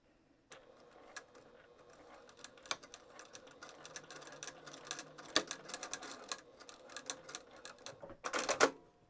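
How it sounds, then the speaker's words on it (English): A sewing machine stitches forward through stacked fabric layers of a beginner's zippered pouch, a steady close mechanical patter running several seconds with a brief louder burst near the end. "we're going to sew forward first"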